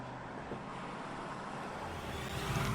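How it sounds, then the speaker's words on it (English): Chevrolet Corvette sports car engine in The Grand Tour Game, a low steady rumble of road and engine noise that swells toward a rev near the end. "The Corvette, America's premier sports car."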